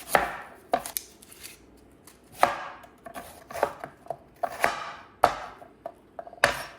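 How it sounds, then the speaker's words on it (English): A knife cuts through an onion in a home kitchen with crisp, close chops on a cutting board. The strikes come in an irregular rhythm, some quick and clustered and others spaced apart, with quiet pauses between them. "I always dread cutting the onion"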